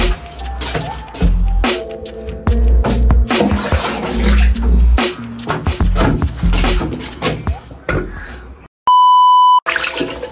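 Water is poured from a dipper and splashed onto the face, with irregular close splashes and trickles, followed by a loud electronic beep near the end.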